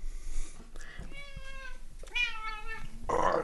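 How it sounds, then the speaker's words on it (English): A cat meows close by, two drawn-out calls and a shorter final one, loud and clear with only faint background noise. "Okay, now we got a cat here."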